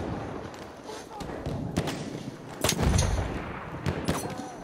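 Battlefield 1 gameplay with a grenade blast and surrounding gunfire, several booming thuds and sharp shots over a constant battle din, fairly loud and close.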